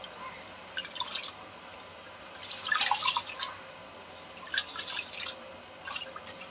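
Hot water from a pipe running into a sink while rice is washed, heard as faint, intermittent dripping and splashing in short bursts against a quiet room.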